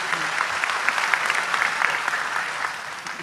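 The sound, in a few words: applause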